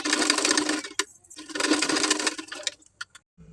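A domestic sewing machine stitches small pleats on a blouse sleeve, a close, busy mechanical whir running in two bursts with a short pause between, then stopping with a few faint clicks.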